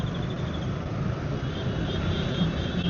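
Night traffic on an Indian road heard from a moving motorbike, a continuous low rumble of engines and wind buffeting close to the mic, with faint passing vehicles.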